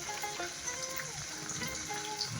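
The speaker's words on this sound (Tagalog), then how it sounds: "kumukulo na." Water boils in a cooking pot of vegetables and tilapia, a steady dense bubbling hiss heard close up and alone, with no talking.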